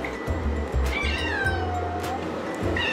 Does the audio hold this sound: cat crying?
yes